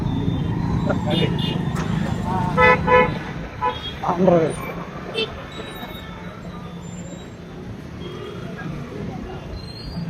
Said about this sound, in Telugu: చూసావా ట్రాఫిక్?